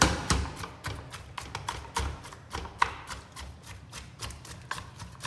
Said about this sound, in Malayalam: നല്ല രീതിയിൽ ചതയ്ക്കണം. അടിപൊളിയായിട്ട് മട്ടനും നമ്മുടെ മുളകും ഇതും ഇഞ്ചിയും വെളുത്തുള്ളിയും ഇതെല്ലാം കൂടി